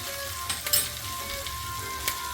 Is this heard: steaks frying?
yes